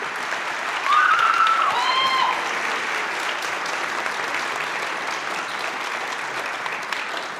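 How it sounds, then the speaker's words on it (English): A crowd applauds continuously at a high school band concert, dense clapping filling the room, with a brief whistle-like tone rising over it early on. "I'd like to give her a round of applause"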